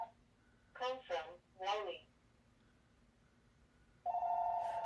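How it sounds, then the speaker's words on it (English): Telephone ringing with an incoming call, a steady electronic ring starting near the end after a few bursts of nearby speech, loud and sustained. "I'm not answering the phone."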